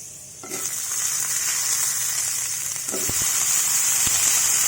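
Eggplant pieces drop into onions frying in a pan, and a loud, bright crackling sizzle swells right away, with a few utensil knocks and scrapes toward the end.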